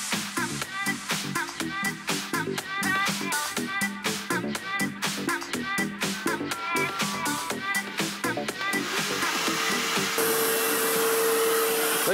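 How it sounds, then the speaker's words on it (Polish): A wet vacuum cleaner attached to an upholstery washing gun sucks water and dirt from fabric, a loud steady roar broken by rapid rhythmic sputtering gurgles, then settling into a continuous whine. "I odkurzacz wysysa resztki wody razem z brudem."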